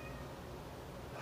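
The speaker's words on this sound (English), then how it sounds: "Sorry, it's my dumb cat again." A domestic cat meows once, faint and brief, in a quiet indoor room with no one talking.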